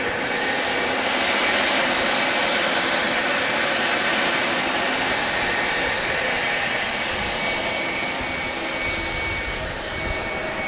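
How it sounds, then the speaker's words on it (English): A Turkish Airlines A330 jet taxiing out at Manchester Airport, a loud, steady engine wail and roar that holds throughout, heard from nearby with no voices. "you can hear the wail of the Turkish Airlines A330 taxiing out"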